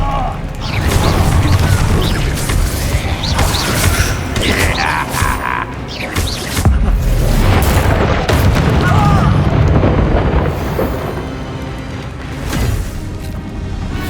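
Bombarda spell blasts in the video game Hogwarts Legacy, with booming explosions and crashing debris amid chaotic battle effects. The sound is loud and dense throughout, with voices and combat noise mixed in.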